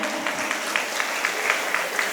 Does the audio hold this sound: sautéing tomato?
no